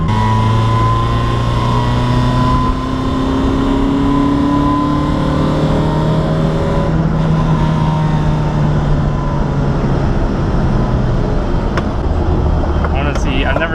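A Toyota AE86 drift car with fiberglass fenders drives along, its engine droning loudly and steadily while the pitch rises and falls through revs, with a voice talking over it.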